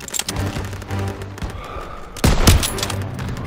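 Heavy gunfire in a Call of Duty WWII battle, with overlapping rifle and machine-gun bursts firing steadily and a louder close volley of shots and impacts partway through, all loud and dense.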